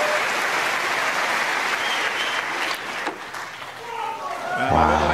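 A snooker crowd applauds an exhibition shot by Ronnie O'Sullivan with loud, sustained clapping that slowly thins out, and a commentator's voice comes in near the end.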